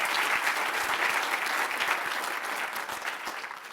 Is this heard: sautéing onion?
no